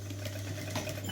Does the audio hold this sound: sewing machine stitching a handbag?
yes